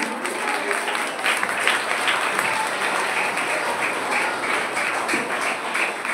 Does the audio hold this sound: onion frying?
no